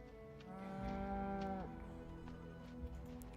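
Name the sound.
cow mooing in a video game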